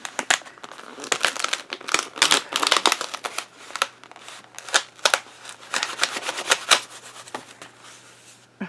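Stuck paper pages of an old art journal are peeled apart, giving repeated close crinkling and tearing crackles in irregular bursts, with quieter pauses between pulls.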